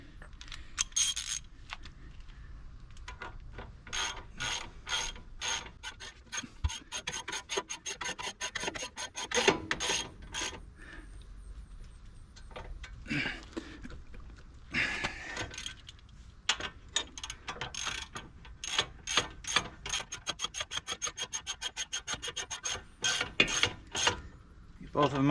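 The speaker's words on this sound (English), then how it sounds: "I need your 1/2-inch drive ratchet still." A half-inch drive ratchet tightens bolts on a 2006 Honda Accord during a wheel speed sensor and harness repair, giving close, rapid clicking bursts with short pauses and scrapes of metal between them.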